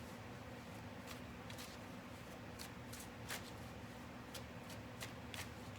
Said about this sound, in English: I'm using the Cosmic Tarot this time.